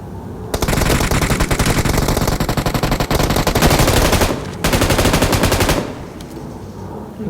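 Rapid automatic gunfire from a firefight in the battle royale game PUBG Mobile, loud sustained bursts with only brief pauses between them, heard alone without talking.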